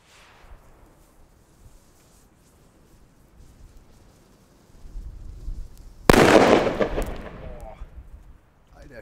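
A Pyrounion P1 firecracker goes off on New Year's Eve as a single sharp, loud blast that rings and decays for a few seconds, preceded by quiet outdoor rumble.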